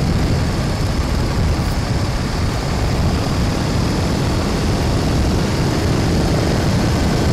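Harley-Davidson FXBR motorcycle accelerating on a highway past a final toll booth, a loud, steady broadband engine and wind roar that holds constant throughout with no voices.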